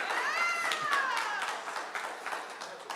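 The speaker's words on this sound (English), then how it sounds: "I'm not used to starting out the talk with claps, but okay." Audience clapping at the start of a talk on open project management, a scattered burst of claps alongside a spoken voice, fading and thinning toward the end.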